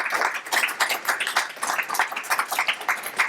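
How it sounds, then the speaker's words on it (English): Audience applause at an academic release celebration, a brisk spell of many hands clapping close by, dense and even throughout. "So can we just give everybody a big round of applause?"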